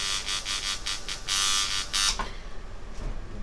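An Electric Shark rotary tattoo machine runs with a steady high electric whine and buzz, close and loud, pulsing slightly before easing off near the end, with no talk.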